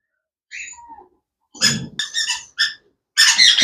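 An albino ringneck parakeet gives a series of shrill, raspy calls in short bursts with brief silences between them, close by and fairly loud.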